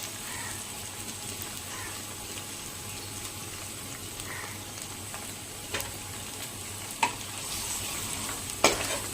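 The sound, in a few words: spices frying in oil for kadhi tempering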